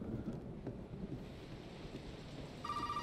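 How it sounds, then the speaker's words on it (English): Phone ringing in the Resident Evil 7 video game: a faint electronic ring starts near the end over low rumbling, rain-like ambience, with no voices. "And then the phone rings."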